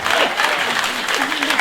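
A short burst of clapping from a crowd, with voices calling out over the applause.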